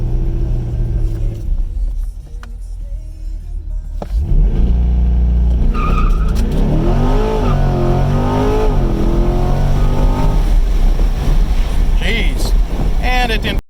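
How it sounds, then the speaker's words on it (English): A C8 Corvette fitted with ZL1 wheels launches from a standstill in a 0 to 60 run, its engine rising from an idle rumble into a loud, sustained roaring acceleration with rising revs heard from inside the car. "we're going to see if we can go 0 to 60 in 2 point some seconds"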